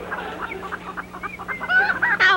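Chickens cluck in a barn, several birds making a busy string of short clucks and squawks that grow louder and more excited toward the end, close by and fairly loud.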